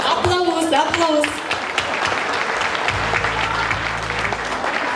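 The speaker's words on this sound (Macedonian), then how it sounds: "Аплауз, аплауз." Audience applause at a 30th-anniversary concert: a full, steady crowd clapping throughout, with a voice speaking over the opening moments and a low hum entering partway through.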